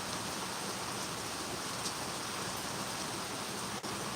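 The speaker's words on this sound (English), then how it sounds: "Rain falling, coming down the side of the porch." Steady rain pours down beside a porch, a dense, even hiss of drops hitting the surface that holds unbroken for the whole stretch, close and moderately loud, with no voices.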